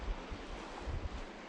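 Strong wind buffets the microphone on a Northumberland shore, a continuous roaring rush with low gusting thumps and surf noise beneath.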